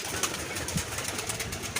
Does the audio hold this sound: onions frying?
no